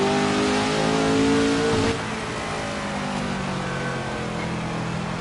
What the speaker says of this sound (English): Let's see where this thing revs at right now.